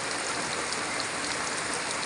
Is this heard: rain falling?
yes